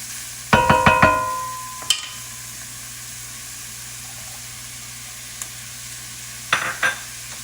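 Onion and carrots cooking in a pan for risotto, a quiet steady sizzle broken by a few metallic clanks of a utensil on the pan near the start and end, no talking.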